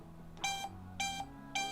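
A replica Apple Watch 6 smartwatch (HW19) gives three evenly spaced, bright electronic beeps while its keypad is used to dial, each beep a short double chirp, heard clearly and up close with no talking.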